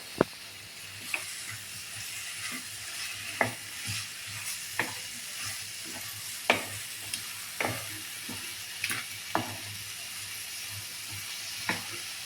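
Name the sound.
capsicum frying and being stirred in a pan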